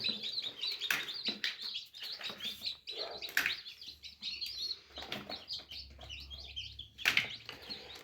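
Newly hatched chicks from an incubator peep in rapid high, thin bursts, many voices overlapping close by with brief pauses.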